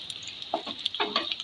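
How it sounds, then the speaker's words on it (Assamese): Finely chopped garlic frying in a kadai gives soft, intermittent sizzles and light stirring scrapes, quiet and close, with no voices. "বহুত বেছি ফ্ৰাই কৰিব নালাগে, ৰঙা হোৱাকৈ জাষ্ট অলপ ফ্ৰাই কৰিলোঁ"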